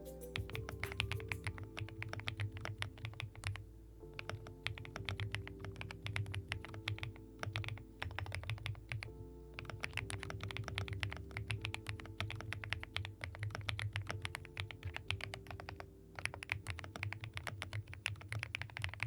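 A custom mechanical computer keyboard with custom keycaps is typed on steadily, a dense stream of soft, pebble-like clacks close to the mic over a low hum, with no talking.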